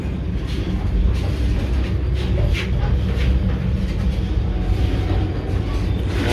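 Steady rumble and hiss inside an air-conditioned Vande Bharat Express carriage running between Bangalore and Mysore, a loud, continuous cabin drone with no distinct clatter.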